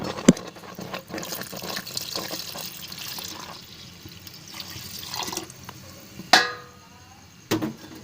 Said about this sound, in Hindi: अब इसमें मैं दूध ऐड करूँगी।